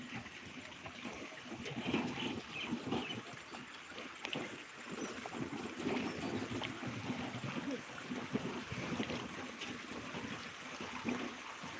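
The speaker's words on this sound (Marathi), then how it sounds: "मस्त पाणी वाहायला लागलं मित्रांनो रोडवरती" Rainwater runs along a road near farm fields in a steady, rushing stream, heard close and fairly loud with no voices over it.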